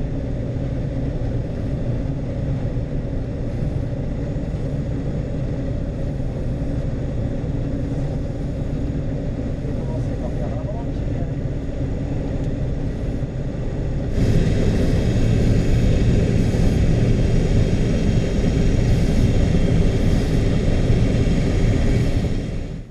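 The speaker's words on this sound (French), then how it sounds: "Donc là je mets en marche l'arrière de la batteuse, le séparateur, le battage." A CASE demonstration combine harvester runs at a loud, steady drone during a wheat harvest, then the engine revs up sharply and grows louder as the machine moves off.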